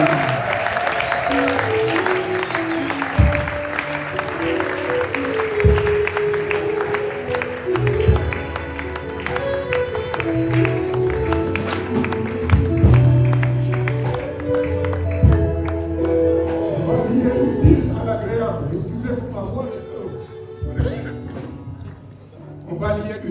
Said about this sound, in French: Et nous le signifions par nos acclamations.